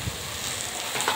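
Onion and taro stolons frying in a pan, a steady close sizzle with faint crackles running through the whole short moment.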